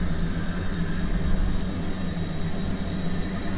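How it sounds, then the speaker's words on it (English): A plane in the video game Kerbal Space Program takes off with a steady, dense engine roar that holds at an even level throughout, with no voices. "Now that's how you take off a plane."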